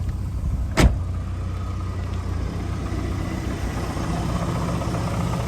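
A 1988 Ford Escort XR3i idles with no throttle, a steady low engine hum heard close up and unchanging throughout, with one brief sharp click near the start.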